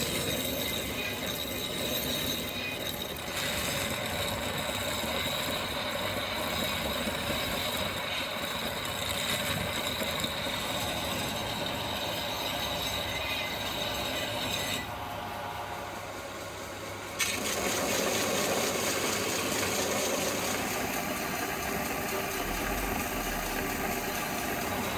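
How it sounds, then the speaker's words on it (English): A belt grinder running a 60 grit belt against forged steel rebar for a knife blank gives a steady, loud, harsh grinding roar that briefly drops and thins mid-way before surging back at full strength. "60 grit belt on the grinder"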